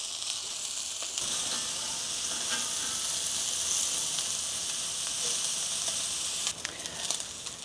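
Gyro meat slices sear in olive oil, a loud continuous close sizzle and hiss with brief crackles as more slices go into the hot pan.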